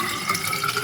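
Filtered water pours from a filter jug in a short, steady splashing stream with no voices.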